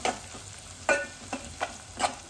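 Onions fry in a pan with turmeric, giving a soft continuous sizzle punctuated by several scraping stirs and light clinks at uneven intervals, with no talking.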